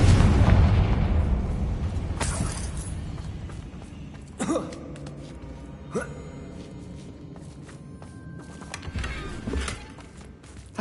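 The Confringo explosive spell going off in Hogwarts Legacy: a heavy booming blast at the start that rumbles and fades, then a few sharper impacts and game effects, with no speech.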